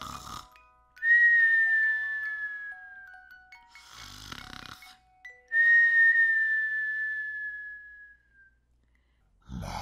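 A Roblox character snoring: two long cartoonish snores, each a loud rising inhale and then a whistling, wheezy exhale that slowly falls in pitch, with short pauses between them.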